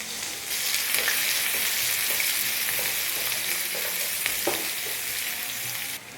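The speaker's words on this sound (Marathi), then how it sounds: "आता त्याच्यामध्ये एक मोठ्या आकाराचा कांदा एकदम बारीक चॉप केलेला फ्राय करून घ्यायचा आपल्याला, थोडासा सोनेरी होईपर्यंत." Finely chopped onion fries in oil with cumin until lightly golden. A loud, steady sizzle with scattered pops and stirring scrapes cuts off abruptly near the end.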